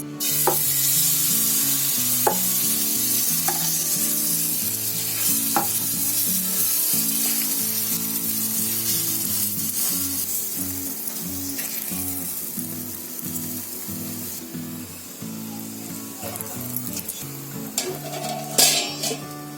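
Oil sizzles steadily on a hot griddle while flatbread cooks for a long stretch, with occasional clinks of utensils and a rhythmic low clatter underneath.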